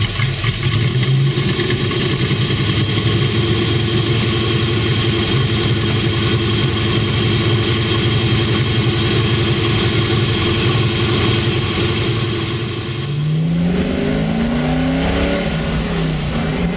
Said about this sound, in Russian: Ох, выхлоп такой прям.